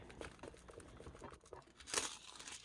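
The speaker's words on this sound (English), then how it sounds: "Just take your foil and re-stick it to there." Foil being pressed and re-stuck onto an alcohol ink carnation picture, giving soft, irregular crinkles and rustles up close, with one louder crumple near the end.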